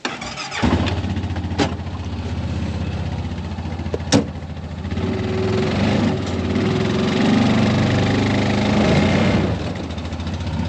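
A farm vehicle's engine runs steadily on frozen winter ground while being shifted into four-wheel drive, a loud continuous close drone with a sharp clunk or two near the start and a brief squeal in the middle.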